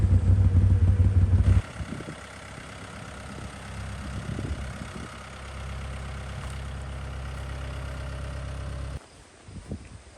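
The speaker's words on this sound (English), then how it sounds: "little man on his tractor" A tractor engine rumbles steadily at low pitch, loud at first, then quieter and uneven with some clattering, before cutting off near the end.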